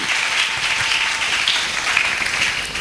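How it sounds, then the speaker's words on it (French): Congregation at a church service applauding together, a dense, steady wash of clapping hands sustained throughout without pause. "Acclamez le Seigneur"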